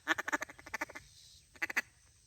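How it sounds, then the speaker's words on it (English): A duck call blown in a cutdown pattern: a fast run of sharp chattering quacks, a brief pause, then a few more quacks, close and clear with no talking. "Pause, hit your quack, go back into the chatter."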